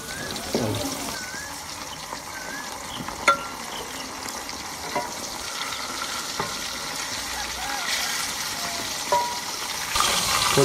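Chicken pieces frying in a pot of golden-browned onions, a steady close sizzle with occasional stirring clinks and scrapes, no talking.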